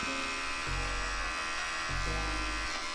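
Electric hair trimmer buzzing steadily close by, with the motor note dropping into a heavier hum in two stretches as it bites into hair at the nape during a men's graduation haircut.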